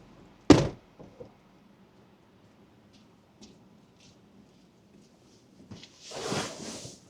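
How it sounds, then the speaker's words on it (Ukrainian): A Tesla car door that will not open gives one sharp, close thunk, followed by a few faint clicks and then a short rushing burst near the end. "бачила, що дверка вже не відчиняється"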